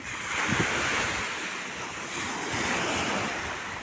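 Sea waves washing and rolling continuously on the Italian coast, with gusty wind rumbling across the microphone.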